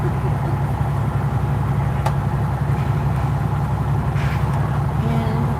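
Truck engine running steadily nearby, a constant low droning hum with a dense rumbling texture throughout, no change in pitch, a few faint clicks on top.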